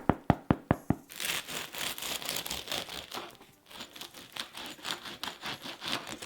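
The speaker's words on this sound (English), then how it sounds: "I'm gonna start knocking on the bread and it just sounds so fantastic." A handful of sharp, hollow knocks on a crusty no-knead loaf in quick succession, followed by steady crackling and crinkling of the crust.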